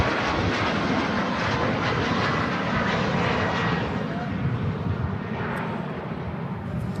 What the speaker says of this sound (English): the Ryanair flight heading back out to Malaga